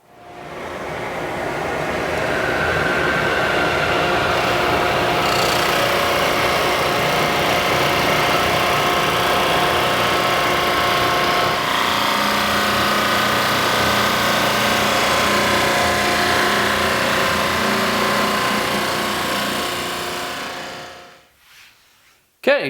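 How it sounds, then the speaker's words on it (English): A drum sander smooths curly maple boards in a steady, loud machine drone that runs for about twenty seconds, then winds down near the end. "take these over to the drum sander and start getting these all smoothed out"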